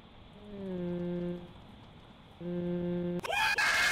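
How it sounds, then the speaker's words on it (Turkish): A synthetic, drawn-out scream with steady tones from the driving game The Long Drive, sounding twice, the second cut into a harsh burst of noise that keeps going as the game freezes. "Öyle bir çığlık attı ki oyun dondu."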